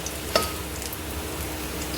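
Ginger sizzling in hot oil in a pan while being fried for Kerala-style inji puli, a steady close crackle with one brief sharp pop near the start.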